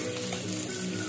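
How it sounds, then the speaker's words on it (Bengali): Onions sizzling in oil in a pan, a steady close crackle and hiss with constant level and no talking. "এ দেখো পেঁয়াজ লাল লাল ভাজা হয়ে গেছে"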